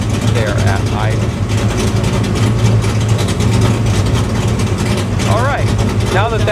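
A Foxbody Mustang engine idles steadily with a low, even rumble throughout, while someone talks over it.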